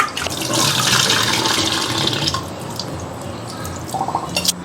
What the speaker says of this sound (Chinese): 我们先把大米给它淘洗一遍